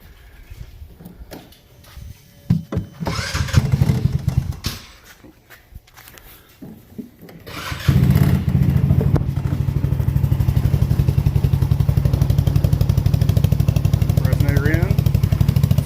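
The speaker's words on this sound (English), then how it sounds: "So we'll show you what it sounds like. Right now I have the resonator in." A Polaris Ace or Ranger 150 engine fitted with a custom exhaust and resonator, first quiet with clatter and handling noise, then starting up and settling into a steady, loud, close idle drone for the second half.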